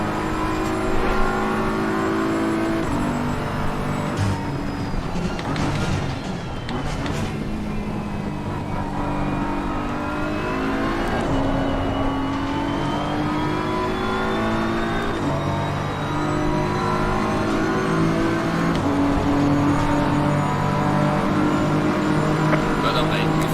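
A BMW race car engine in Assetto Corsa Competizione, revving continuously through upshifts and downshifts with a steady, loud drone over a lap, while someone talks intermittently over it.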